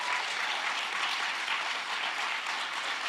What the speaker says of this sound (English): can we just give Summer another round of applause for